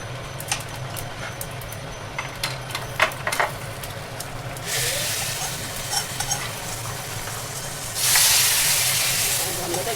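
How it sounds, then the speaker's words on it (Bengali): Whole garam masala spices hit hot oil for tempering, a broad hissing sizzle that surges up suddenly and then flares louder again, with light clicks and clatter of a spoon before. "দেখতে পাচ্ছ, ছক দেওয়া হচ্ছে।"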